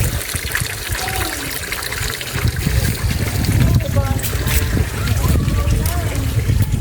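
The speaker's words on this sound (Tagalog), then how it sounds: "ipapakita ko po sa inyo kung saan ito nanggagaling, itong tubig na ito" Fresh spring water in Bicol flows from its source in a steady trickling, splashing stream, close and continuous, with a person speaking over it.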